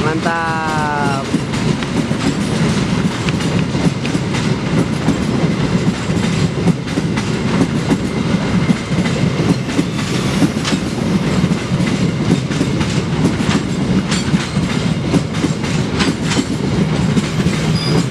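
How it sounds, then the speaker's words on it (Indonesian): An Indonesian local train rumbles steadily along the rails with continuous clattering, loud and close, running the whole time with a brief higher whine near the start. "sekarang akan masuk kereta api lokal"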